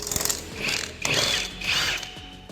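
A ratchet wrench clicks in three short bursts while removing a coilover nut on a 1998 Honda Civic, close and fairly faint, with brief pauses between the bursts.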